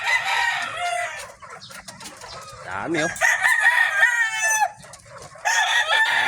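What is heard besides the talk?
chickens clucking and rooster crowing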